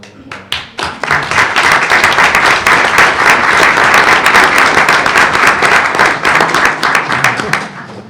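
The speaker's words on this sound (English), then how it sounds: "give them a round of applause." Loud applause in a board meeting room, starting with a few separate claps that quickly swell into dense, steady clapping from many people close by, holding strong for several seconds before stopping abruptly.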